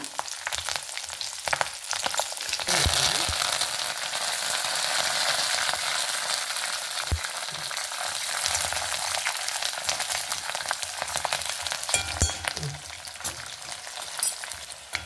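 Green chilies fry in a tempering of mustard seeds and chickpeas for masala chitranna, a loud continuous sizzle held for the whole stretch with occasional metallic clatter and stirring knocks.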